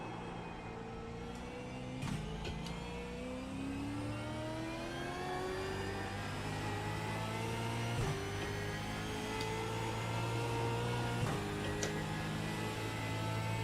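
A supercar engine in iRacing holds a steady, buzzing drone, with pitch climbing and dropping through quick upshifts and braking, continuous and close.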